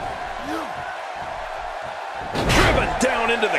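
In the wrestling video game WWE 2K17, a wrestler is slammed into the canvas with a loud thud in front of a Sacramento arena crowd. The impact lands over steady commentary talk.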